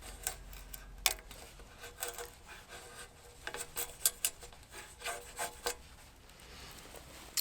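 A Bestech Horizon fixed blade knife carves a feather stick from wood outdoors, making quiet, irregular scraping and rasping strokes close to the microphone with short pauses between them.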